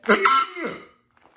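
A voice imitates a big frog with one short, rough, throaty croak that fades quickly.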